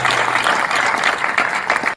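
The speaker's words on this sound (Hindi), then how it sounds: "जरा तालियां बजाकर आप आशीर्वाद प्रदान करें" An audience claps to welcome Bunty ji at a political gathering, brisk and dense applause close by, holding at a steady level for the whole two seconds.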